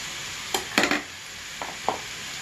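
Green chillies and grated ginger hit a pan and are stirred, giving a few short scraping, sizzling bursts over a faint background hiss.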